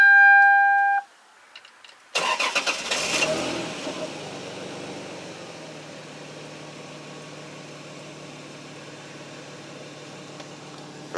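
A Lexus SC300 fitted with a 2JZ engine cranks and fires up abruptly, then settles into a smooth, quiet idle that holds steady to the end after a brief rev at startup.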